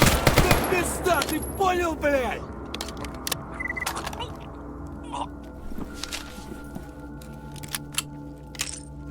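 Gunfire in the shooter game STALKER GAMMA, Clear Sky setting: a burst of rapid shots at the start, then scattered single cracks and distant pops over a humming background, with someone talking over the opening shots.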